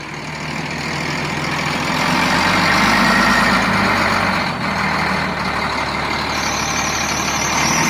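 A heavy vehicle idles with a deep, steady rumble on a mountain road, loud and close throughout, with a slight swell in the middle.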